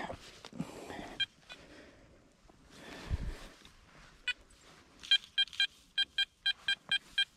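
A Garrett Ace Apex metal detector's short electronic beeps repeat in a quick, even rhythm, loud and close, after a stretch of quiet rustling and faint sounds.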